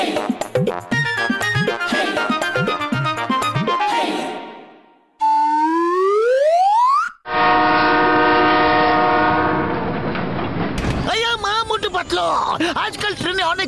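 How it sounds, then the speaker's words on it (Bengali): A cartoon train from the animated series Motu Patlu rushes past with loud whistle-like horn tones and rising synthetic sweeps, mixed with music and cut between abrupt sections, while characters speak over it. "মোটু, তোমার ট্রেন তো চলে গেল"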